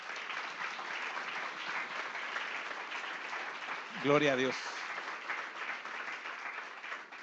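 Steady, moderately distant applause rolls through a church congregation during a sermon, unbroken across the clip, while a single voice speaks briefly over it midway.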